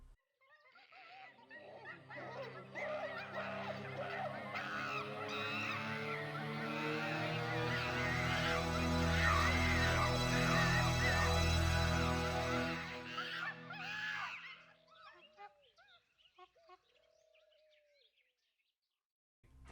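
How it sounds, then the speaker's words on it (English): Intro of the Curse of Monkey Island video game: a loud swelling tone that builds over several seconds then fades, layered with shrill monkey-like screeches and squawks throughout. "a logo stating CMI appears, accompanied by a loud noise and monkey screeching"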